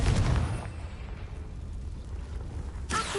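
A Confringo blasting spell from a video game erupts as a heavy explosive boom at the start, then trails off into a low rumbling tail before a second sharp burst cracks near the end.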